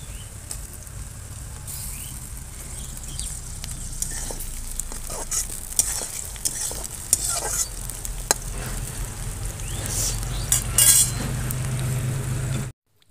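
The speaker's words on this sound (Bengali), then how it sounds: "টমেটোটা যতক্ষণ গলে না যাচ্ছে ততক্ষণ এইভাবে নেড়ে নেব।" Tomatoes fry over onions in a pan for a chicken dish, giving a close, uneven sizzle. Repeated spatula scrapes and clinks against the metal come through, a louder burst of stirring arrives late, and the sound stops abruptly at the end.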